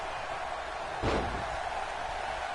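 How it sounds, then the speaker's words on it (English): A wrestler's face slammed into the ring apron at a live wrestling show: one sharp, heavy thud at mid-clip that stands out from a steady roar of arena crowd noise. "And slams her face into the apron."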